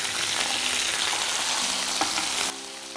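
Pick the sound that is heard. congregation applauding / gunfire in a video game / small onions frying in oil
small onions frying in oil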